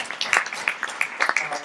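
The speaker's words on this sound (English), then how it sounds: "I would love a round of applause for Linda and Kelsey" Light applause from a church congregation, a scattering of sharp hand claps at close to moderate distance over about two seconds, loose and uneven rather than a full roaring ovation.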